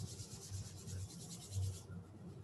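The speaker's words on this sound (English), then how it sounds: "maybe rubbing the palms together and then placing the hands over the eyes" Palms rubbing together during a pranayama and meditation practice: a soft, continuous brushing hiss lasting about two seconds before fading, close and quiet with no talking.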